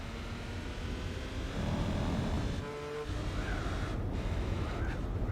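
Mercedes race car engine in Gran Turismo 4, droning steadily at close range with a brief dip midway and rising whine toward the end.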